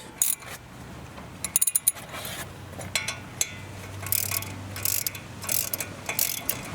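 A socket wrench ratchets on bolts during a front brake job on a Lexus UX, with quick clicking bursts and metallic tool clinks close by, separated by short pauses and no speech.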